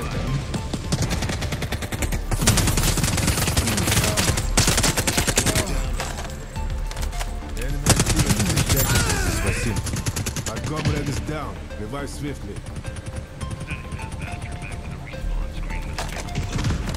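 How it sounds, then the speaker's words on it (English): Gunfire in the 80s-style extraction shooter Ascendant: dense bursts of rapid automatic shots and sharp single cracks, loud and close, with brief pauses between volleys and a voice speaking over parts of the firing. "This dude's shooting at him."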